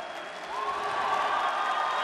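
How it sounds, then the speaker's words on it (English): A crowd at an Olympic qualifying boxing match cheers and applauds in a large hall, the noise swelling partway through and holding steady, a high shrill tone running above it. "You hear the cheer from the crowd."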